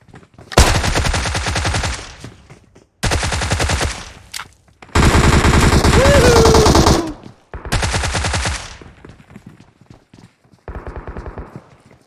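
Five loud bursts of automatic M16 rifle fire from a video game, each a rapid rattling volley lasting one to two seconds, separated by short pauses, the last burst shorter and somewhat duller.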